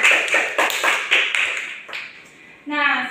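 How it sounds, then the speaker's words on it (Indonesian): A high school class claps together in a brisk rhythmic pattern of short bursts that fades out, and then a voice starts speaking. "tepuk tangan dulu untuk kita semua."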